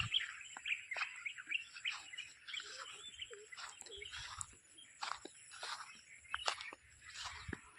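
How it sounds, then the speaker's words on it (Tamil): Many birds in a forest chirp and tweet in overlapping, fairly distant calls, with a thin high insect-like whine and faint rustling underneath. "ஆனால் நல்லா இந்த பறவைங்களோட சத்தம் அப்படிலாம் ஒரு ப்ளசண்ட்டான ஒரு அனுபவத்தை கொடுக்குது."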